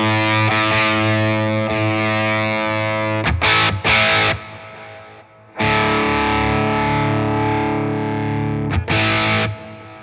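Distorted electric guitar through a Synergy Bogner amp module, sustained chords ringing loud and full with EQ being adjusted, cut by brief bursts of bright attack and two short gaps.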